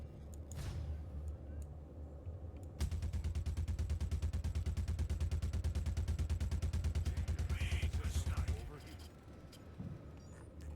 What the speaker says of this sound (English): We kill him just with the Death Ballistic Gun.